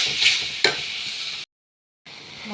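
Peas frying with ground spices, ginger, garlic, chilli and onion in a pan, a steady close hiss with a couple of sharp stirring scrapes, broken by a short silent gap before the sizzle resumes.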